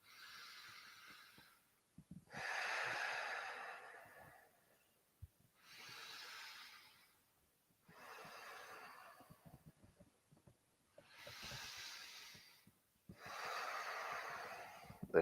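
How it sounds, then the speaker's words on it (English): Deep breathing during a yoga session after hard jiu jitsu training: six slow, audible breaths spaced about two seconds apart, each an airy hiss through the nose or mouth with short pauses of silence between. "Breathe deep."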